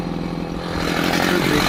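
A Husqvarna chainsaw cutting into a tree on a farm, a close, loud engine snarl that builds and steadies as the cut bites in, with no talk.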